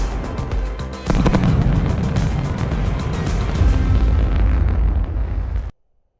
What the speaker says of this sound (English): Just heard the two sonic booms here in the room.